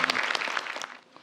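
Brief applause at a live-broadcast government work report, as an audience claps for a team leader who handled a complaint; scattered, fairly faint clapping that tapers off after about a second.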